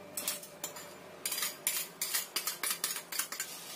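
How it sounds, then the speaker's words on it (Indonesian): Batter being stirred evenly in a bowl for a sweet homemade snack, a utensil scraping and clinking against the bowl in quick repeated strokes, close and fairly loud with no talk. "Kita aduk rata dulu."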